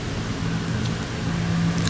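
Water splashing in a swimming pool, picked up by an underwater microphone: a steady, dense, muffled wash of noise with a low rumble, continuous and even for about two seconds with no voices.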